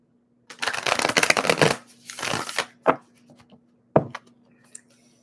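Tarot cards are shuffled by hand in a quiet room, a close riffle of dense papery flutters followed by a few separate sharp taps and slaps of the deck.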